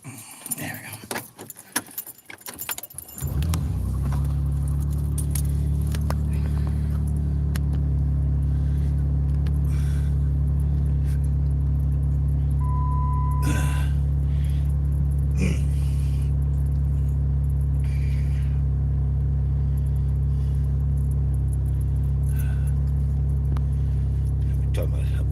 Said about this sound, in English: Talking about how junk my car sounds today.